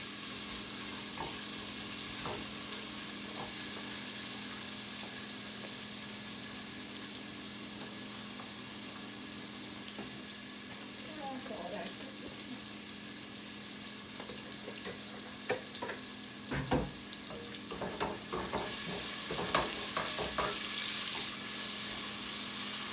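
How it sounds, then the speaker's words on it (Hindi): Finely chopped onions fry in a pan for noodles, giving a steady, close sizzle that fills the whole stretch. Occasional stirring clatters and scrapes come through near the end. "इसको हमने तब तक फ्राई करना है जब तक इसका हल्का सा गोल्डन कलर आ जाए।"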